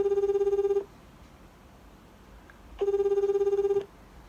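Telephone ringback on an unanswered call, two long ringing tones about a second each separated by a two-second gap of quiet line hiss, steady and moderately loud.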